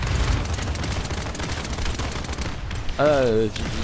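Rapid automatic gunfire from Tyra's weapon in the Paladins video game rattles in a dense, fast burst, then a voice speaks briefly over the fading shots.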